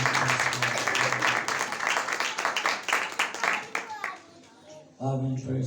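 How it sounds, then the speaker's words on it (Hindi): A church congregation breaks into loud, sustained applause welcoming the sermon, rhythmic clapping that fades away before a voice speaks again. "भरपूर तालियों में खुदा के कलाम को वेलकम करेंगे।"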